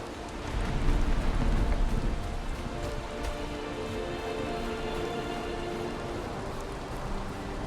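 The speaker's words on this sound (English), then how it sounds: "Now it's raining." Steady rain pours in the video game Valheim, a dense continuous hiss of drops on surfaces that swells slightly early on and then holds even, with no voices over it.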